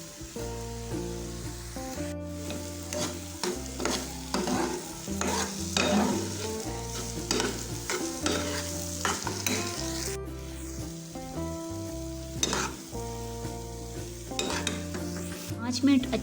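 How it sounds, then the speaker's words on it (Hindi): Egg halwa roasting in a pan, a continuous close sizzle broken by repeated scraping and stirring strokes in an uneven rhythm, loud and steady, with no talking. "हम इसको अच्छी तरह से भूनेंगे ताकि अंडे की स्मेल ख़त्म हो जाए"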